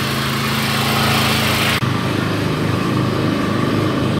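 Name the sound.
generators running in a Ukrainian city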